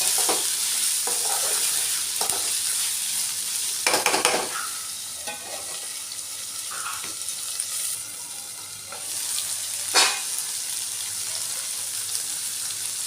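Capsicum and potato curry stirred in a frying pan, a continuous hiss of sizzling oil broken by scraping spoon strokes and a few louder clatters, close and steady with no talk.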